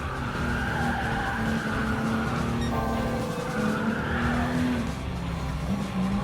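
A classic Jaguar E-Type races in Gran Turismo Sport, its engine droning steadily and shifting pitch as tires squeal and skid through corners, loud and continuous throughout.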